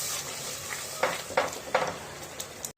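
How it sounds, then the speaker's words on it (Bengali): Rohu fish being sautéed in a pan with turmeric, salt, cumin and coriander powder, a steady sizzle broken by several scraping stirs of a spatula, close and with no talk. "পরিমাণ মতো লবণ, জিরের গুঁড়ো আর একটু ধনিয়া গুঁড়ো দিয়ে এটাকে আমি ভালো করে কষিয়ে নেব।"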